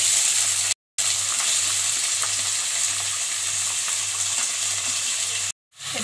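Onions sizzle in hot oil with cumin seeds and a piece of cinnamon for a rajma masala, a loud, steady frying hiss that drops out twice for a moment.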